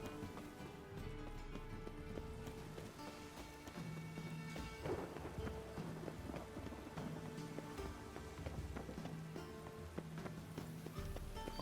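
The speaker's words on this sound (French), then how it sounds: "Encore de la pluie." Rain and a thunderstorm in The Witcher video game, with steady rainfall and low rolling thunder rumbles, layered with game ambience and faint hoofbeats of a horse clip-clopping along.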